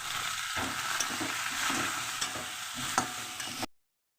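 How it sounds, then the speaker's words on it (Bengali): Potatoes fry with turmeric in a pan during preparation of a fish curry, a continuous hissing sizzle with a few light stirring clicks, close and steady, ending abruptly. "হলুদ দিয়ে আবার আলুটা একটু ভেজে নিয়েছি"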